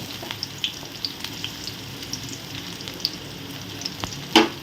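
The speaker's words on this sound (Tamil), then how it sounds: "இப்போது வெங்காயம் நல்லா வதங்கட்டும்" Onions and green chillies fry in a pan with a steady, close sizzle, broken by small pops and crackles and one sharper burst near the end, with no talking.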